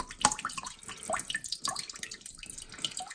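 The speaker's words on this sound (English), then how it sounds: "look at the water coming out" Mucky, dirty water draining out of a domestic heating system during a boiler replacement, a continuous splashing, dripping flow with close, irregular droplet spatters and no talk.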